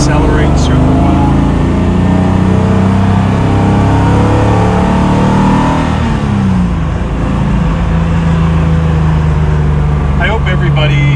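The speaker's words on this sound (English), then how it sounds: "I hope everybody gets the chills when they listen to the motor just opening up." A powerful 1956 Mercedes-Benz 300SL Gullwing engine revs and roars loudly, the pitch rising and falling as it accelerates, continuous and close throughout.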